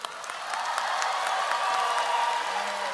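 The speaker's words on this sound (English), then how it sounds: "give ourselves a celebratory round of applause for making it to this day" Graduating class of 2022 applauding together at a high school graduation ceremony, a steady wash of clapping from a large crowd that holds at even loudness throughout.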